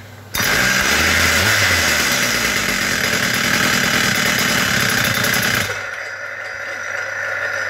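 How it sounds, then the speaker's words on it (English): Husqvarna K970 chain concrete cutter's two-stroke engine catches at once and roars loudly at high revs, then drops to a lower, steady idle for the last couple of seconds. "Let's see if it'll start with the first pull."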